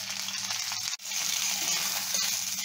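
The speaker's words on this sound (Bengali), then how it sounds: "সবজি ভাজা ভাজা হয়েছে" Pieces of potol, carrot and drumstick frying in oil for shukto give a close, steady sizzle with a brief dip near the start and faint stirring sounds.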